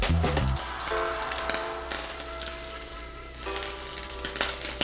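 Cubes of Spam sizzle and crackle in a non-stick pan over medium heat, a steady close frying hiss with light clatter at the start and a faint tonal hum beneath.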